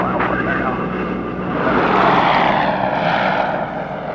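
A CL-215 water bomber with Pratt & Whitney R2800 radial piston engines drones loudly and steadily up close, swelling briefly in the middle, while a voice talks over it.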